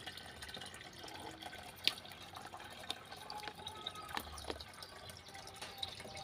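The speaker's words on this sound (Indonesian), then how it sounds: "Lihat proses pengisian air, dan untuk airnya jangan terlalu tinggi ya" Water pours steadily into a tub being filled for soft-shelled turtles, a continuous close splashing wash with a few sharp drips and clinks over it, no voices.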